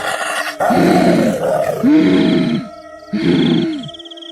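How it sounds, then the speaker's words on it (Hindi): A witch character's growl for a story sound effect: three loud, deep, drawn-out snarling roars in a row, close and alone, with no talking. "चुड़ैल उन कैदियों को देखकर गुर्राने लगती है।"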